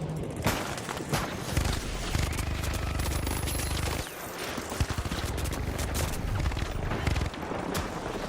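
Sustained minigun fire in a multiplayer shooter, loud rapid bursts rattling almost continuously with a brief pause midway, booms and clatter mixed in, a voice talking underneath.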